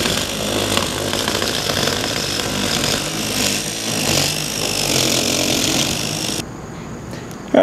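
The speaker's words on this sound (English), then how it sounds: "it's fixed right to a standard DeWalt drill and we'll watch how it operates" A loud, harsh grinding whine from a vehicle-extrication rescue cutter mounted on a standard DeWalt drill runs continuously, then drops off abruptly near the end.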